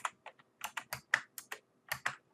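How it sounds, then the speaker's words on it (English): Typing on a computer keyboard while entering payroll data into a register, a quick irregular series of close, crisp key clicks with short pauses, no voices. "Let's go over to the register and type in 1 exemption for Woods"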